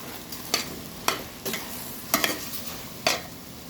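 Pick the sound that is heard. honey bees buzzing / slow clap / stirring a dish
stirring a dish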